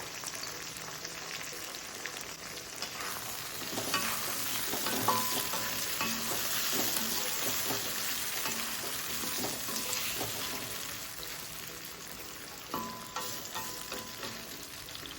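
Tomatoes sizzle and crackle in a hot pan, with scraping stirs of a spoon at intervals; close and fairly quiet, no voices.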